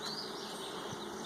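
Honey bees buzz steadily around hive frames while frames are rotated during a hive inspection, a dense, continuous close-up drone with no voices.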